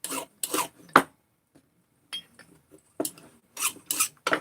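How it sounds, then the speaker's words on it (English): Large metal bearings are deburred by hand, giving short scraping rasps in irregular bursts separated by quiet gaps, close and fairly faint. "I'm deburring them pretty good here"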